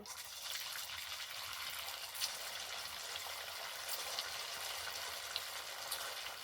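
Semolina snacks deep-frying in hot oil give a steady, soft, even hiss with faint bubbling crackles throughout, fairly quiet and without any talk.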